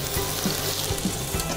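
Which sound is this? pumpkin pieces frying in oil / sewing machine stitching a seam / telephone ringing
pumpkin pieces frying in oil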